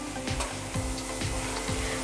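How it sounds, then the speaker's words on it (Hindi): Onions frying in a pan for korma sizzle steadily and close up, with a stirring scrape and thump recurring about every half second. "बाकी के प्याज को थोड़ा सा हम और फ्राई करेंगे 2-3 मिनट"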